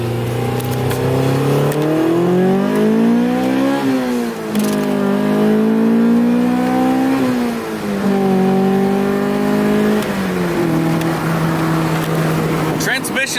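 A Honda Integra DA with a B16 engine pulls hard through the gears, its loud, close engine note climbing steadily, then dropping at each upshift before rising again.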